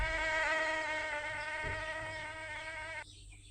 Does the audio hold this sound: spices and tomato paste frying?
no